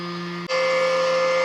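SlavicBeauty electric cream separator running while separating milk: a steady electric motor hum with a clear tonal whine that briefly cuts and shifts to a higher, louder pitch, then carries on evenly.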